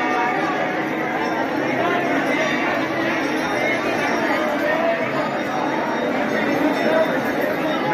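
Dense crowd chatter fills a busy Rajasthan temple, a steady wash of many overlapping voices with faint clinks, loud and continuous throughout.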